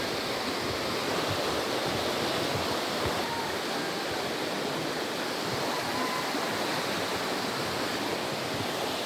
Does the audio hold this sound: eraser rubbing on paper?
no